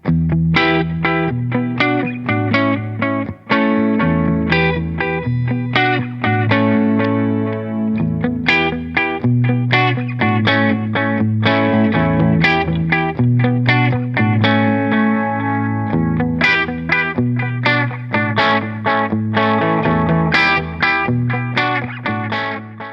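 An electric guitar runs through a delay pedal into a tube amp on the edge of breakup, playing strummed chords and picked notes with gentle grit and some echo, continuous and fairly loud.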